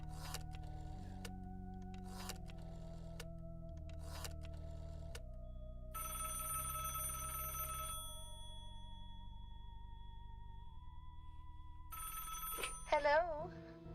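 An old-fashioned telephone bell rings in several evenly spaced bursts after a number is dialed, under a quiet steady background hum, with a voice coming in briefly near the end.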